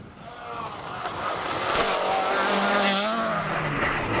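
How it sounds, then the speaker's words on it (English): A Ford Mark II Escort rally car with a Millington engine on a stage of the 2010 Donegal International Rally, its engine note rising and wavering loudly and steadily across the whole stretch as the car drives past. "Their Millington engine really sings through Fannet"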